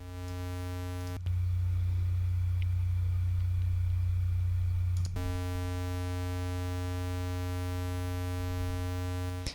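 Steady synthesizer tones in Logic Pro X, a pitched waveform with a ladder of evenly spaced overtones, switching to a purer low tone with few harmonics for several seconds, then back to the harmonic-rich tone, sustained and loud with no talk.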